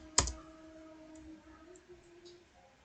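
A single sharp click of an Enter key on a computer keyboard, close and isolated, followed by a faint electronic hum and a few soft ticks.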